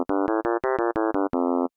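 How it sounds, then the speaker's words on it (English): A synthesizer tone built from sine partials plays as a quick run of short, bright, thin notes with the low end stripped away, like a high-pass filtered sound, ending on a longer held note, loud and alone. "Sounds like we're high passing it, right?"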